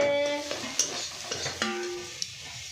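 Eggs frying in a pan, a soft sizzle under light clanks of a utensil against the pan and faint background tones, close and fairly quiet.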